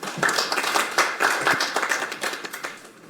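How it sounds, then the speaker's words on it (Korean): Clapping from a seminar audience welcoming a culture ministry official at a policy debate, moderately sparse claps of fairly even loudness that thin out toward the end. "박수로 맞이하겠습니다"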